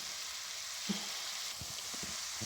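Steady hiss and sizzle of garlic and onion frying in very hot oil, with a few soft stirring knocks, close and fairly quiet.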